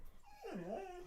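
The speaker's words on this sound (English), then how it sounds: "Oh, our dog just came in the room, and he wants to say hi." Pet dog whimpering indoors, a single short, faint whine that bends down and back up in pitch, heard alone.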